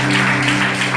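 A church congregation claps in praise of the Lord during a sermon, a loud, dense burst of applause over a steady low hum.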